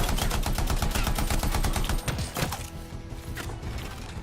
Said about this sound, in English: Getting shot from every direction